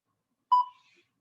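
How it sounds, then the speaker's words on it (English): A workout interval timer gives a single short electronic beep, clear and alone, fading quickly into silence. "I'm going to start our timer here."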